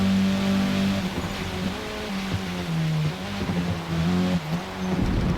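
An Audi S1 A-class four-cylinder race car with all-wheel drive accelerates on a wet Indy circuit in Forza Motorsport, its engine droning loud and steady with pitch rising and dipping through gear changes, no talk.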